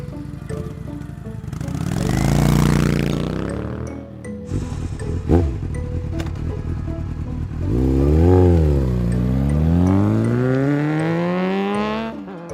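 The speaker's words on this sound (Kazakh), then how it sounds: "мотоцикл." A motorcycle engine revs hard twice, each burst rising and falling in pitch with a loud, close roar, separated by a brief rattling idle in between.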